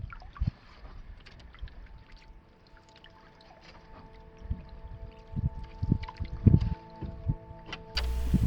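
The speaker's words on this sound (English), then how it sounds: "I headed out in the canoe to explore the bay surrounding the island where my campsite was" Solo canoe paddling on Little Saganaga Lake in the Boundary Waters, a close series of soft watery paddle strokes and drips, irregular at first, then a quicker rhythm of splashes and gurgles, with no voices.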